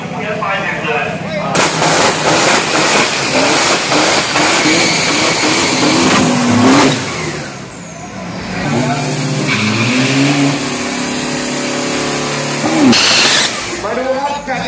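Thin-tire street cars in the T6 class at a Dubai drag race night launch and race, loud roaring engines and revving surging continuously over a crowd's noise and a commentator talking.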